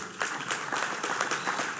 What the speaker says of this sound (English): A round of applause for Linda Dinwiddie.